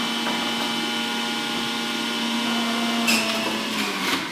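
A Breville juicer whirs steadily as vegetables are juiced, a constant motor hum with a sustained tone and brief grinding bursts near the end, loud and close with no talk.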